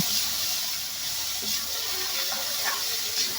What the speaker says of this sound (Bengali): এখন আমি শাকগুলো দিয়ে দেবো তেলের উপর শাকগুলো দিয়ে বেশ কিছুক্ষণ নেড়ে চেড়ে শাকটা আমি ঘন্ট করে নেব